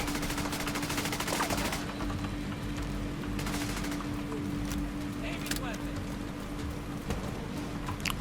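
Sustained gunfire in The Division 2, steady crackling volleys and sharp single shots at middle distance over a constant hiss, with people talking throughout.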